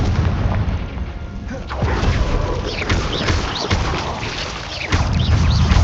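A Confringo blasting spell explodes in Hogwarts Legacy, a dense, loud rumbling barrage of booms and crackling bursts with no break, layered with game effects.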